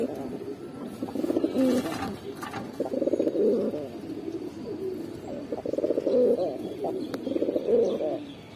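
A pair of Lal Dobash pigeons coo in repeated low, throaty bursts, fairly close and clear, with short pauses between phrases and no talking.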